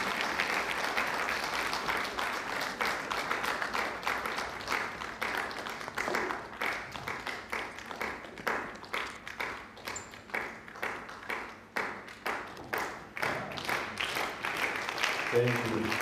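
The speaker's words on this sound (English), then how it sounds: "A round of applause." An audience at an innovation showcase event for local economic development applauds, a fairly faint, sustained wash of many hands clapping that thins into scattered individual claps toward the end.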